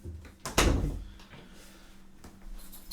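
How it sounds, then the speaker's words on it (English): A door being shut indoors gives one solid thud, followed by a faint rattle and quieter room noise. "Let me shut the door."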